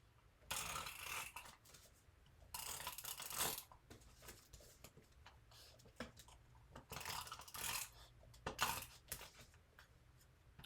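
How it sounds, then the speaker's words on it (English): Tape runner laying double-sided tape onto thick paper for a brown bag junk journal, heard as several bursts of dry, close, crackly peeling and rubbing with short ticks and pauses between strokes, no talking. "I'm going to use a tape runner."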